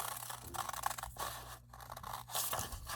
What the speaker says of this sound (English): I'm going to cut like a little rounded part right here.